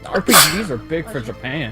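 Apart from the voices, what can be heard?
sneeze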